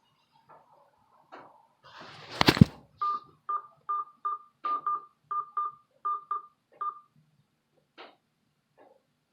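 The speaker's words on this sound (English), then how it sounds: "At the tone, please record your message when you enter your phone number followed by a pound." Telephone keypad sends a rapid run of about ten DTMF beeps, evenly spaced, as a phone number is keyed in on an automated voicemail line, preceded by a louder burst and a few soft clicks.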